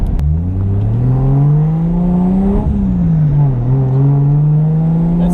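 A turbocharged Toyota JZX100 Chaser engine drones loudly and steadily under boost from inside the car, its pitch rising, easing and climbing again with a strong continuous rumble.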